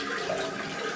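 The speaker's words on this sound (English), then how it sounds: "I've been having a problem with this Kohler toilet. When you take and flush it," A Kohler toilet with a weak flush, sometimes slow and sometimes failing unless the handle is held down, flushing as a steady rush of water that fills the whole second, close and alone.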